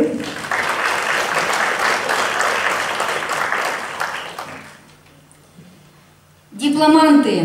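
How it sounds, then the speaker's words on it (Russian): Audience applause at a journalism awards ceremony, a dense burst of clapping for about four and a half seconds that fades away, followed by a short quiet gap and then a voice speaking. "аплодисменты"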